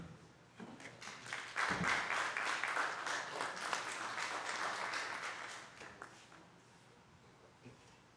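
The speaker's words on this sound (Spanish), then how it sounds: "Un fuerte aplauso para el doctor Régulo Franco Jordán." Audience claps for Dr. Régulo Franco Jordán at an international healing conference in Túcume, starting from a few hands, swelling into full applause, then thinning out to scattered claps.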